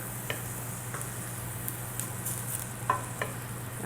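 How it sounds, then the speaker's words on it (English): Steady sizzling of onions frying in a pan, a constant hiss with occasional faint pops and stirring clicks, no voices. "You can hear that sizzle."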